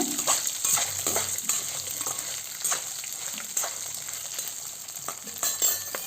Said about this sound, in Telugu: ఇది కూడా మిరపకాయలు కూడా ఆయిల్లో బాగా ఫ్రై అయ్యేంతవరకు ఒక 2 మినిట్స్ నేను ఫ్రై చేసుకుంటున్నాను